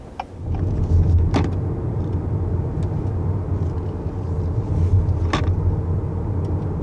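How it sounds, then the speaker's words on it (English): Steady road rumble and engine drone from a 2021 Honda Accord with the 2-liter engine on a twisty road, heard from inside the cabin at an even level, with a few brief clicks and creaks. "here we are in kind of a twisty road, which is one of the Accord's strongest suits, and that does continue with the 2-liter as well"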